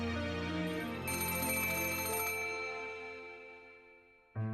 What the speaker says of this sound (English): Suddenly, the phone in front of Wang rang.